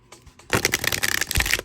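A Starry Arcana tarot card deck being shuffled up close, a few soft riffles first, then a loud rapid flutter of cards snapping together in quick bursts.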